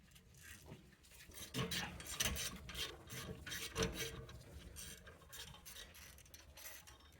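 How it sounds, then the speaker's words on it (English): A set screw is loosened and the rear brake rotor removed on a 2011-2017 BMW X3 F25, with close, steady metallic rasping, scraping and rubbing that swells and fades over several seconds, fairly quiet, with no talking. "we can get this rotor removed"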